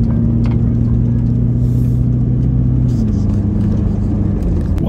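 A 13-year-old car drives off-road on the track to Poeppel Corner, its engine a steady close drone with low rumble and a slight shift in pitch partway through. No one speaks.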